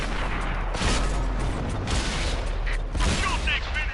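KV-5 heavy tank in World of Tanks lets off loud cannon blasts amid a continuous battle din of rumbling engine and gunfire, with a sharp boom near the middle and another burst toward the end.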